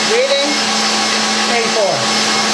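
A stand mixer running at its top speed 10, a steady loud motor whir with a constant hum and faint shifting whine throughout.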